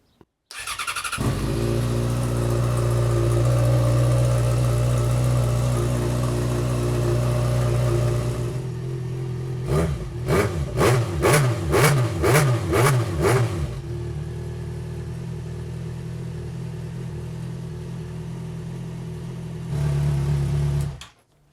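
A motorcycle secured on stands cranks and fires up, holding a loud steady run before a quick series of sharp revs, then settling and cutting out.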